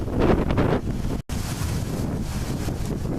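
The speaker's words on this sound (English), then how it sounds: "So let's survive this wind and get going." Strong outdoor wind roars and buffets the microphone in a steady loud rush, broken by one brief dropout, while out collecting isopods and millipedes.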